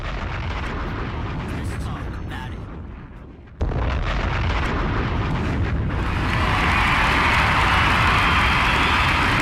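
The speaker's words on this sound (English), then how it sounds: "Drop a bomb on that." A loud bomb explosion sound effect with a sustained rumbling roar that swells and stays heavy, briefly dipping before erupting again, with voices talking over it.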